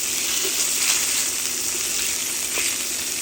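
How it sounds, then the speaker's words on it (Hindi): Scallop surimi is lightly tossed and roasted in a pan, giving a continuous, fairly loud frying hiss with a couple of faint taps. "हल्का सा टॉस करना है। 3 से 4 मिनट सिर्फ इसको हम लोग हल्का सा भुनेंगे।"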